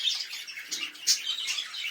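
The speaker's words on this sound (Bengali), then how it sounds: "শুনতে পাচ্ছেন পাখিদের কিচির মিচির" Many small birds chirp and squawk together in an aviary in a continuous high-pitched chatter, close by and busy.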